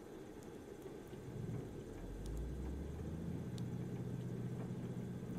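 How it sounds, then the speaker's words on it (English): Simulated aircraft engine spooling up in the AirportSim game, a low rumbling drone that swells in after about two seconds and holds steady and loud, with a faint whine layered above. "we have to hold this engine start for like 4 seconds"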